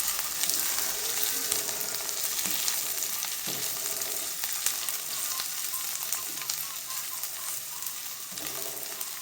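Ginger, onion, garlic and green and red siling labuyo chili stir-fry in a pan, giving a bright, continuous sizzle with occasional soft scrapes and clinks from a utensil, close up and without talk.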